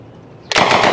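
An M3 Grease Gun submachine gun opens fire on a shooting range after a quiet half second, a loud, close, continuous burst of rapid automatic shots.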